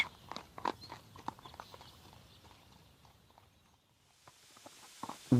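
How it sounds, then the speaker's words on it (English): Several horses walk at a steady pace, hooves clip-clopping in an uneven rhythm close by, loud at first and then thinning out and fading toward the end. "Lidenbrock and Axel are on horses."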